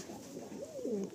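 Chini kaldom pigeons kept for sale give a faint, short, throaty coo over a low background hum.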